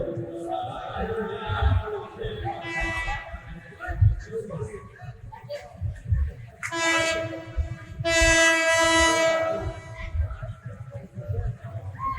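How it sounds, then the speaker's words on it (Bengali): Train horn sounding in long, loud blasts as a train approaches on the railway line, heard alongside a voice and rail rumble, with the strongest blasts near the end. "ট্রেন আসতেছে, ট্রেনের লাইন থেকে সরে যান, ট্রেন আসতেছে"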